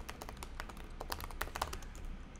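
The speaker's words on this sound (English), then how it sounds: "let me tell you in a bit after I finish typing this line" Steady, brisk typing on a computer keyboard while writing a line of Java code, with dense close keystrokes in an uneven rhythm and no speech.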